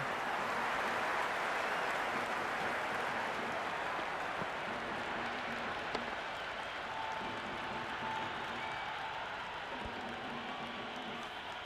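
A cricket crowd in the video game Cricket 26, at a T20 match between Pakistan and England, applauds in a steady, dense wash of clapping that carries on evenly without pause.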